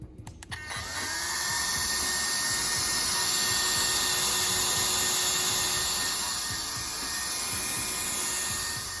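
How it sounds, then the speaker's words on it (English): A loud, steady whooshing roar of a powerful electric cooling fan for an RC car build spinning up after a brief click, then running continuously close by with a faint whine. "this Amazon fan up here, which is crazy powerful"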